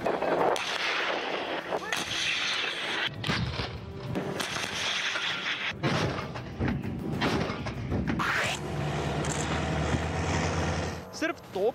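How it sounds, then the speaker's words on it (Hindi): Russian artillery shelling near the Ukraine border, a series of heavy booming blasts and crackling impacts that follow one another for several seconds, loud and dense, with no spoken voice in the clip. "आप गिनते गिनते थक जाएंगे, लेकिन रूस की फायरिंग खत्म नहीं होगी।"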